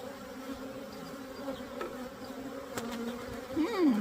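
Honeybees hum in a very strong hive being split, a steady dense drone with individual bees buzzing past close by and a brief sharper whine near the end, no speech.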